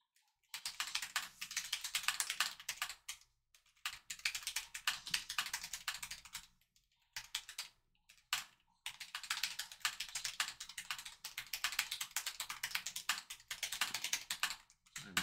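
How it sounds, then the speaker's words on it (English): Fast typing on a computer keyboard comes in several long bursts of quick, clattering keystrokes separated by short silent gaps, close and steady, with no voices. "I'm typing as fast as I can."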